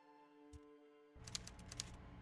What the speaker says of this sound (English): I'm hearing the typewriter, which means we're at Everett.